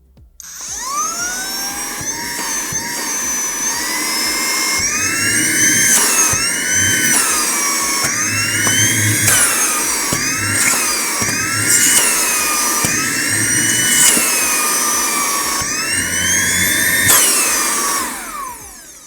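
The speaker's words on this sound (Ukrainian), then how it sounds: "Давайте зараз увімкнемо пилосос і подивимося, як він спрацьовує." An Aspiring Gale 4 GL16P12K cordless car vacuum whirs with a high whine, its pitch repeatedly dropping and sweeping back up as the motor revs, loud and close.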